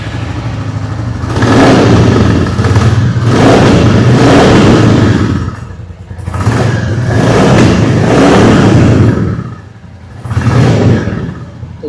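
A 2024 Royal Enfield Bullet 350 BS6 motorcycle exhaust roars loudly up close in several long revving swells that build, hold and ease off, with no talk over it.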